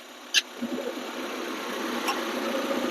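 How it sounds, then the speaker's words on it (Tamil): A Maruti Eeco car engine running on LPG idles steadily with a low, even hum, a brief click near the start and a faint tick later on. "நமக்கு கேஸில் ஐடலிங் நல்லாவே இருக்கு"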